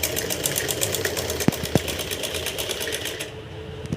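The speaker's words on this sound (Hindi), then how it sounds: "इसी प्रकार से हम पूरे में सिलाई डाल देंगे।" A sewing machine stitches along a lehenga, its needle running in a steady rapid clatter with a couple of sharper knocks partway through, then slowing and stopping near the end.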